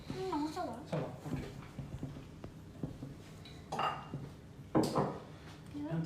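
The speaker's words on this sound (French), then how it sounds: "Maintenant, on mélange un peu." Blini batter with melted butter being mixed in a bowl, close clinks and scrapes of utensil against the bowl, with people talking in French over the stirring.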